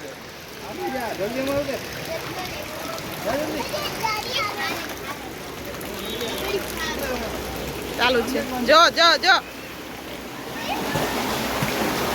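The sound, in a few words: heavy rain water flowing and splashing in Ahmedabad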